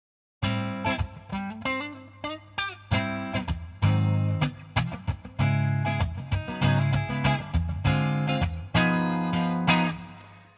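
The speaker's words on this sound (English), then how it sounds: "I've now gone to the Fender amp," Electric guitar played through a Fender Twin Reverb amp with a Twin Stomp AB-Y pedal, loud chords and picked notes strummed in bursts with short gaps, a full, bright clean-to-driven tone and no voices.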